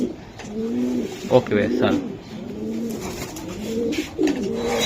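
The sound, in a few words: racing pigeons cooing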